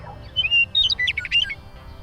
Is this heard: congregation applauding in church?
no